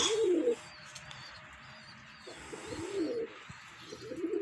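Pigeons cooing nearby in soft, low, throaty phrases in bad weather, spaced out with quiet gaps and faint chirps in the background.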